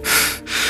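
Two quick, heavy breaths of a person panting after running, close and loud, each a broad airy rush with a short gap between.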